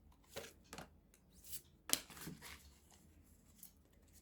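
Tarot cards are shuffled and drawn in a quiet room, with several soft riffling swishes and one sharp snap partway through, all faint and close, with no talk over them.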